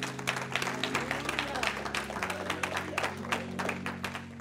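A church congregation claps under ongoing music, with sustained low organ or keyboard tones and a busy crowd sound throughout at moderate level.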